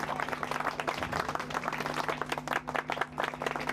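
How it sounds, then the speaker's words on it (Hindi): A crowd at a Chhath Puja gathering gives a brisk round of hand clapping, dense and continuous for a few seconds, moderately loud with a steady hum underneath. "जोरदार तालियों से स्वागत किया जाए।"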